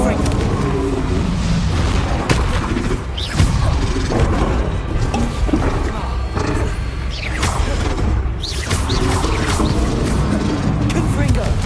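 Repeated Confringo fire-spell blasts from the Hogwarts Legacy video game boom and crash in a dense, continuous stream of combat noise, loud and close, with shouted voices mixed in throughout.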